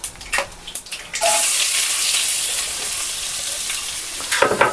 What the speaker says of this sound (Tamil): நான் வெங்காயம் சேர்த்துக்க போகிறேன்.